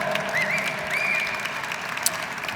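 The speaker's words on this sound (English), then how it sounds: "So let's give ourselves a round of applause for that." An audience at a philanthropy celebration claps in a steady, continuous round of applause lasting the whole moment, a dense even patter with a few sharper claps standing out.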